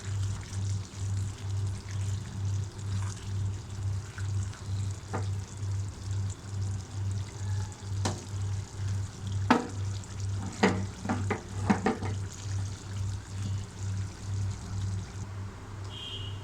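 Green chillies fry in a pan of vegetable curry: a soft, steady sizzle sits under a pulsing low hum, with a few sharp utensil clicks near the end and no talking.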